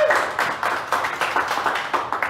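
A short applause sound effect plays as a dense, steady patter of clapping hands at an even rhythm, moderately loud and heard alone.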